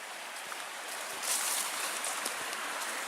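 A small creek on a ridge at Lookout Mountain along the Superior Hiking Trail, flowing with a steady soft wash and faint trickles, close by and alone with no talk.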